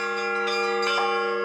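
Russian church bells ring with a dense, sustained metallic tone and layered overtones, several strikes blooming over the steady hum of earlier peals, loud and continuous with no voices.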